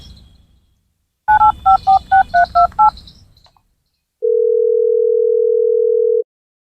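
Quick series of eight loud telephone keypad beeps in a row, a short pause, then one long steady tone from the phone line.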